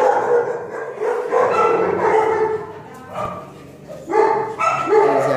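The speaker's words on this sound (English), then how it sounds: "These are little pups." Little puppies at a shelter for abandoned dogs in an old military complex yip and bark in overlapping bursts nearby, with whimpering between, fairly loud and without talk.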